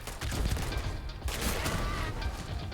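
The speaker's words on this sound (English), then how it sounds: "these projectiles are firing" Enemy projectiles firing in Starfield, a fast, steady crackling volley of shots under a dense rumbling bed of combat noise, continuous and moderately loud throughout.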